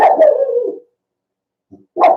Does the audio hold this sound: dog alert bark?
yes